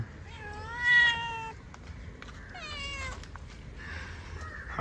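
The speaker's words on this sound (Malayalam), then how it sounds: "ഒരു പൂച്ചനെ കണ്ടിട്ടുണ്ട്" A cat meows repeatedly up close, with several drawn-out, wavering cries and short pauses between them. No one talks.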